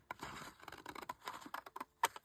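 Scissors snipping through old paper, with a run of quick, close, dry cuts and a sharper final snip, quiet and without talk.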